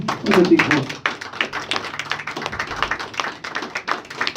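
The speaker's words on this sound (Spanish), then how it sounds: "Dar un aplauso al Señor." A church prayer meeting breaks into applause for the Lord, with dense, quick hand claps from many people filling a few seconds.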